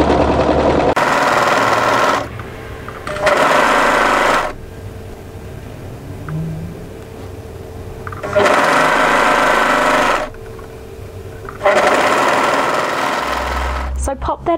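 A serger sewing machine trims the raw edges of fabric with its blade while stitching a tunic sleeve, running in loud close bursts of steady whirring broken by quiet pauses.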